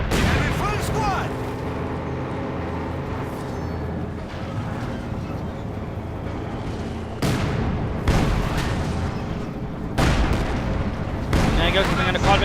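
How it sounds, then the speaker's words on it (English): Battlefield gunfire and artillery fire in Company of Heroes 2, dense loud booms and rattling shots layered over continuous combat noise, with heavier blasts landing near the middle and end. "coming under quite a bit of fire"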